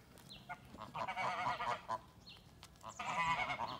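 Geese honk loudly in repeated bursts, several calls overlapping, with a brief lull in the middle before another noisy round.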